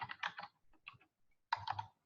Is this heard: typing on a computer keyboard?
yes